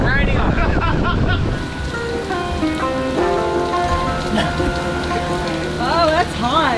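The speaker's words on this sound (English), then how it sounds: "it just started pumping down with rain" Heavy rain drums steadily on a boat nearby, a dense pattering roar with people talking over it.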